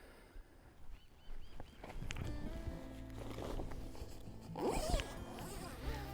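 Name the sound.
zipper on OzTent screen house being undone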